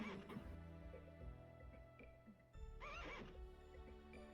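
A lizard-horse creature in the video game The Legend of Dragoon neighs like a horse, quiet whinnying calls with clopping and mechanical clicks, ending in a rising, wavering squeal.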